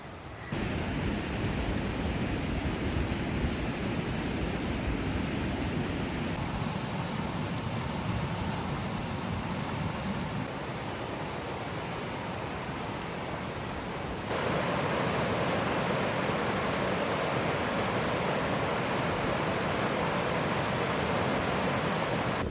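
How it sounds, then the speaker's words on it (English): A dense, unbroken roar of rushing whitewater on Icicle Creek near Leavenworth, Washington, fills the clip, loud and steady, with no voices. "I can hear the roar of Icicle Creek"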